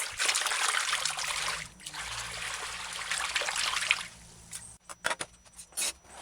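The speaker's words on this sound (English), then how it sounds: "Rotate your hand from side to side and around. Wash the rice properly." Rice being washed by hand in a bowl of water, a steady close swishing and trickling for about four seconds, then a few separate splashes and drips as the grains are rotated side to side.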